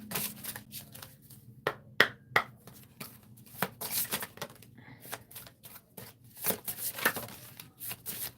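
Tarot cards being shuffled by hand, with quick irregular riffles, slaps and flutters close up, some taps sharper than others.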